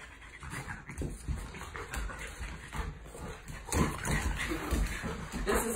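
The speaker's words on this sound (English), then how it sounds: "this is how Gus plays with big dogs" Dogs playing together at close range, a small dog and a bigger dog, with panting, snuffling, scuffling and brief whimpers in uneven bursts, and people talking now and then in the background.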